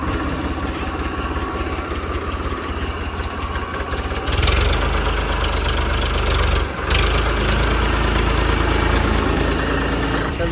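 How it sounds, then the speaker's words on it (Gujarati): A tractor engine runs close by, chugging steadily at first, then growing louder and heavier partway through with a brief dip before resuming its rough, knocking throb. "ટ્રેક્ટર હાંકી રહ્યા છીએ."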